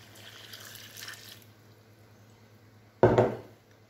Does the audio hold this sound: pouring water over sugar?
yes